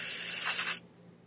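Carburetor cleaner sprayed from an aerosol can onto a plated Honda GCV160 carburetor bowl, a loud, close, steady hiss lasting just under a second before cutting off abruptly.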